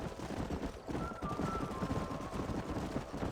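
Horse hooves galloping in the Western video game Red Dead Redemption, a steady dense clip-clop rhythm with a brief whinny partway through, fairly loud and continuous over ambient game sound.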